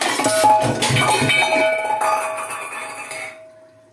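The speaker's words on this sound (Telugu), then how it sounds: "వాటర్ వేసుకుని మూత పెట్టుకుని ఇవ్వండి" Water goes into a metal pan of ridge gourd curry, then a lid is set on with several bright metallic clinks and a lingering ringing tone that fades into quiet.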